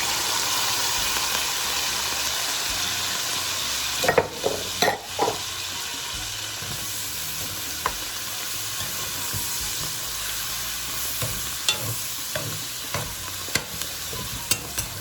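Fresh herbs and vegetables wilting in a hot pan hiss and sizzle steadily, broken by a cluster of scraping stirs midway and light utensil clicks toward the end, without talk.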